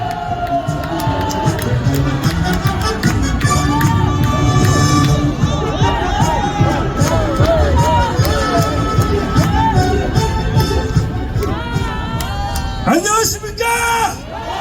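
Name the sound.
crowd applauding at rally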